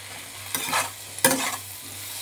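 Butter prawn masala sizzles gently in a pan while a spatula stirs it with two distinct scraping strokes, heard close and alone.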